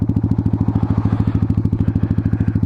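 Motorcycle exhaust at highway speed, heard close as a steady, rapid pulsing drone with a rough, throbbing low end and some wind rush. No one speaks.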